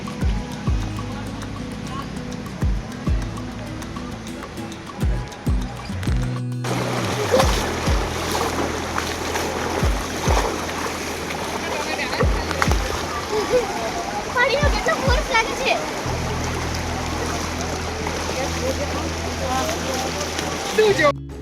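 A forest river near Zarwani waterfall rushes and splashes over rocks in a loud, continuous roar that swells after a brief break, with voices heard at times.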